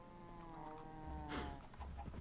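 Minecraft cows penned together in a group of about ten give a faint, low moo that rises over a soft background, brief and somewhat distant.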